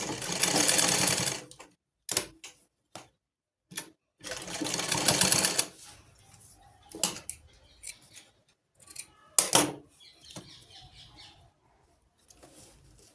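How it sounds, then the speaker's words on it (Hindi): A sewing machine stitches a seam on a short kurta in several loud close bursts of varying length, separated by pauses with faint handling and cloth sounds. "यहाँ से भी हम गुम सिलाई कर लेंगे।"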